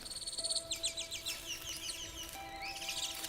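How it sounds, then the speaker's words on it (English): Birds chirp and twitter in quick, bright bursts over a steady insect-like hum in a Harry Potter and the Half-Blood Prince scene, with no talking. "What's with the birds?"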